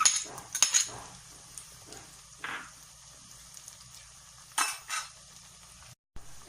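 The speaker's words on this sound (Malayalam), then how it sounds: "ഇത് നന്നായിട്ട് വഴറ്റണം, ശരിക്കും വഴറ്റിയെടുക്കണം." Onion, ginger, garlic, curry leaves and green chilies sautéing in a pan for a Kerala fish curry, a faint continuous sizzle with scattered stirring scrapes and clinks, close by.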